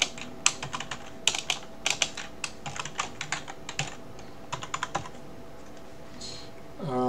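Fingers type on a computer keyboard, a close run of quick, uneven key clicks in short bursts, trailing off into quiet near the end with no speech.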